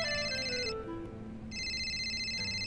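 Phone ringtone for an incoming call, a bright repeating electronic melody that rings, pauses briefly, then resumes, heard fairly close with no talk over it.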